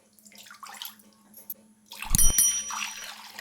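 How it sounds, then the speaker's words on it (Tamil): Water splashes and pours into a heavy pot with a brief metallic clink, following quieter rustling. "இதில் தண்ணி சேர்த்துடலாம்"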